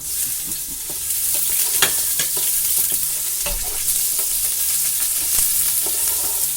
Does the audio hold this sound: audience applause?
no